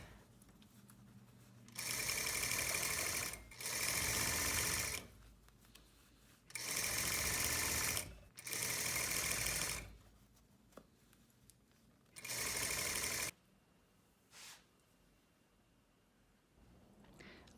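A sewing machine back stitching a jacket collar during tailoring, running in several bursts of steady whirring stitches of one to two seconds each, separated by pauses with faint handling clicks, close and alone without talk.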